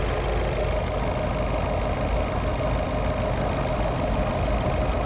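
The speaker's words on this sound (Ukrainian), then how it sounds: "до роботи автомобіля на холостому ходу в мене зауважень немає" A diesel Skoda Octavia A7 engine idles in a steady, close, rumbling drone with a slight knocking texture, continuous and unchanging, no voices.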